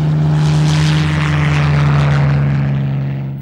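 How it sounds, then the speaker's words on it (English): Supermarine Spitfire propeller fighter flying past, a loud steady droning engine with a strong low hum that swells slightly and then begins to fade, alone without voices, with an old worn recording quality. "Sometimes they were armed with rockets, like these Spitfires."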